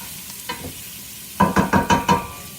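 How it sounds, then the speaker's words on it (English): Garlic and neck bone added to collard greens cooking in a pot, a few quick scraping stirs, a short pair at first then a run of five louder strokes close by. "So, I'm going to add in the garlic. And the neck bone."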